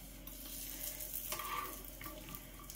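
Nuts heating in hot oil in a pan, with a steady close sizzle and a few scraping stirs and light clinks over a continuous frying hiss.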